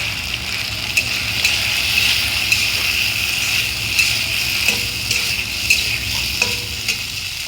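Paneer curry with ginger paste and chili powder sizzles and fries steadily in a pan, with a continuous hiss and periodic spoon scrapes and stirring clicks about once a second, close and loud with no talk.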